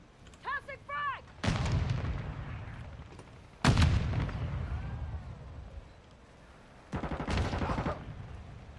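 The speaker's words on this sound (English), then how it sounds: "Enemy contact! Tossing frag!" In Call of Duty: Modern Warfare II, a frag grenade detonates with several loud, booming blasts that roll off into rumbling tails, preceded by a brief burst of in-game voice.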